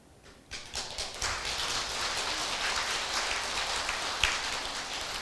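Audience applause at a Buddhist temple dharma talk, a dense wash of clapping that swells in quickly and holds steady at moderate volume, fairly close, with no speech over it.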